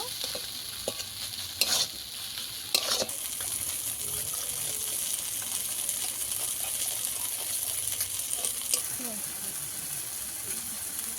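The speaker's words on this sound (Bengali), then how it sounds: "সব মশলা একসঙ্গে দিয়ে ভালো করে একটু কষিয়ে নেব।" Spices with salt, cumin and black pepper frying in a pan for a snakehead fish and green pea kalia, a steady sizzle with occasional scraping stirs and sharp clinks.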